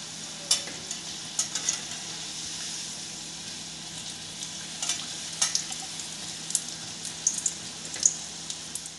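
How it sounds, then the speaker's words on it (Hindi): Momos frying in oil over a slow flame, a steady soft sizzle with scattered crackles and pops, close and continuous with no voices. "इनको स्लो फ्लेम में ही सेकते हैं, नहीं तो अंदर कच्चे से रह जाते हैं।"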